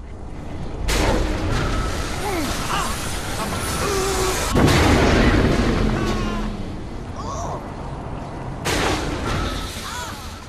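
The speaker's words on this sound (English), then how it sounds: "Another one of our fun new weapons that we're introducing is the Black Hole Launcher." Black Hole Launcher firing in Saints Row 4, a loud booming blast followed by a rumbling, whooshing swirl of game noise with further bursts later on, no voices over it.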